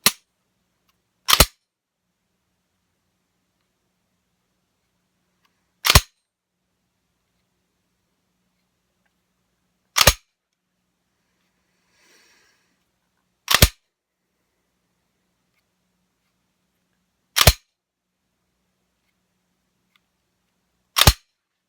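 The trigger on a Timberwolf pistol frame snaps with a dead, sharp click, repeated six times at uneven gaps of several seconds, close and loud against near silence, with a faint rustle between the clicks.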